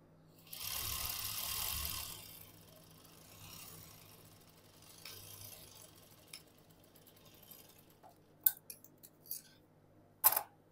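A domestic sewing machine stitches umbrella frock fabric, with a burst of steady, close mechanical whirring, then quieter runs, and ends in a few sharp clicks and taps, alone without talk.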